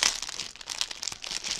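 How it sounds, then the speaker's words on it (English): Plastic bag holding cross stitch embroidery floss crinkling close up, a steady run of bright rustles and crackles with small sharper snaps, no talking. "Nicely done that they put this in its own plastic bag"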